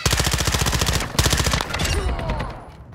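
Automatic gunfire in a Call of Duty Search and Destroy match: a fast, loud burst of evenly spaced shots, a brief pause, then another burst that trails off into echoing game ambience.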